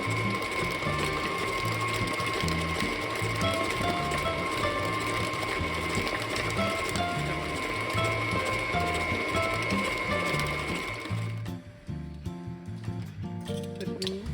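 An electric mixer runs steadily, creaming eggs into a brown sugar pound cake batter, with a loud, continuous whirring motor and rattling beaters that drop out near the end.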